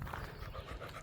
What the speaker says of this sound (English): going on a walk with the dog